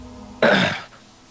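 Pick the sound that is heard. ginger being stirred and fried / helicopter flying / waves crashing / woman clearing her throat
woman clearing her throat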